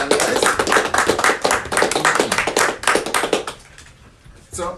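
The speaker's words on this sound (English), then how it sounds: "let's give a round of applause to the competitors today" A small group claps for the cooking competition competitors, close and brisk, a dense patter of hand claps for about four seconds before it thins out and stops, with a voice briefly speaking at the end.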